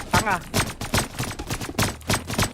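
Rapid bursts of video game gunfire crackle in quick succession while a voice shouts urgently over the shots.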